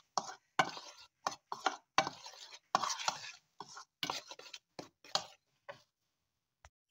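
Blooming onion coating of flour, cornstarch and garlic being stirred together in a bowl, a run of short scraping and tapping strokes in an irregular rhythm, close and moderately loud.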